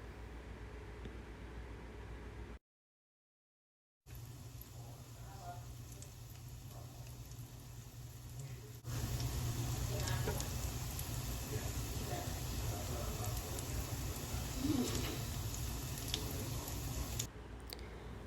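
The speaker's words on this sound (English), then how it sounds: "Put them in the skillet and turn the heat up." Dumplings frying in oil in a hot skillet, a steady soft sizzle with a brief silent gap early on, then a louder, fuller hiss for the rest.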